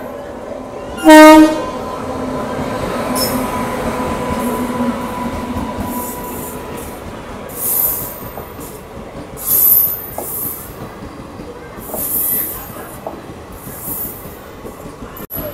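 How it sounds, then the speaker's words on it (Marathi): A train rolls into Kurduwadi Junction, platform 2, with a steady rumble and metallic wheel noise, a brief horn blast near the start, and intermittent high squeals from the wheels. "ही जी ट्रेन बघताय ना ही आली आता प्लॅटफॉर्म नंबर 2 ला कुरुडवाडी जंक्शनच्या"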